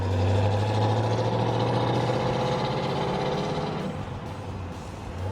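A 1970 Pontiac GTO Judge with its Ram Air IV engine, free-breathing cam, round-port heads and Ram Air IV exhaust manifolds, idles steadily with a loud, lumpy low rumble that eases slightly near the end.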